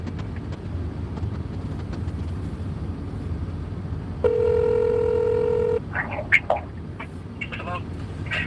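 A steady telephone dialing tone sounds for about a second and a half while calling someone back, followed by a few short beeps, all over a low background rumble.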